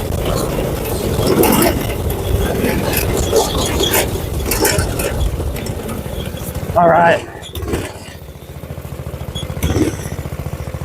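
A Predator 212cc go-kart engine runs continuously close by during a top speed run, a buzzing, revving drone with rises and dips, briefly joined by a short spoken word.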